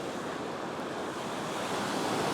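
Ocean waves breaking on a beach where someone is surf fishing, a steady loud roar of surf and wash with wind buffeting the microphone throughout.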